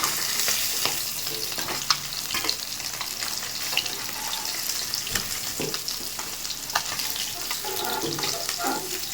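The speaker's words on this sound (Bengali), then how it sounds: "মাছগুলো ভাজা হয়ে গেছে, নামিয়ে নিচ্ছি।" Rohu fish pieces fry in hot oil in a home kitchen, a close, continuous crackling sizzle broken by light scraping and stirring clatter.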